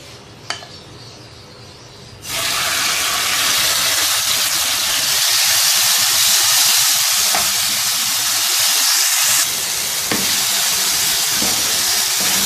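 Oil in a pan over a medium flame breaks into a loud, broad sizzle after a quiet start, holding steady for several seconds with a few brief dips and small clinks.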